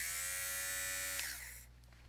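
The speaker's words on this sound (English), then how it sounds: "we have the shaver for maintaining your clothes" A small electric fabric shaver for removing lint from clothes buzzes with a steady, close, high-pitched whine, then winds down and stops partway through, leaving a faint low hum.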